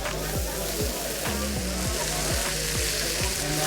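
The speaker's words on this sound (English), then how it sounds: "So we render the fat. After that we cook it in our fat." Meat cooks in its own rendered fat over an oil fire, producing a dense, continuous sizzle with bubbling crackle, loud and close, with a voice talking faintly underneath.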